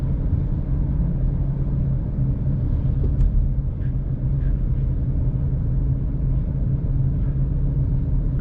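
Steady low rumble of a car driving slowly through dense, flowing city traffic on Munich's Mittlerer Ring ring road, engine and road noise continuous and close, with a few faint clicks and distant sounds above the drone.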